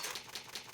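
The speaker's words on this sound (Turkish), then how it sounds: "Eski bir daktilo kaydedecek misin?" The typewriter save sound in a Resident Evil game: three quick, faint mechanical clacks in an even rhythm.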